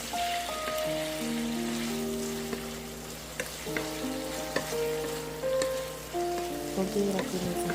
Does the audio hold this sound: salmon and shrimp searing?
yes